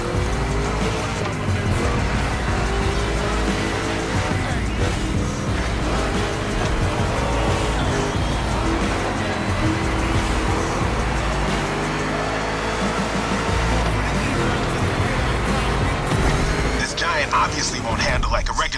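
Monster truck racing in a video game, with tires squealing and engines roaring continuously under loud hip-hop music and a talking voice.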